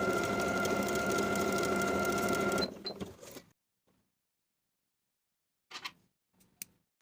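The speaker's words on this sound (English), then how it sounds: "I'm going to sew the darts from the outside edge to the point" A sewing machine stitches darts on a linen shift dress, running in a steady close whir for a few seconds before stopping, followed by near silence and a few light handling clicks.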